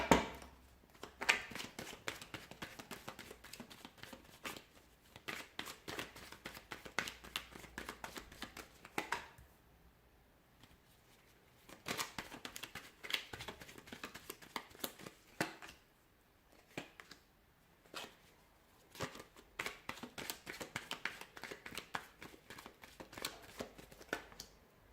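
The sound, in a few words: shuffling tarot cards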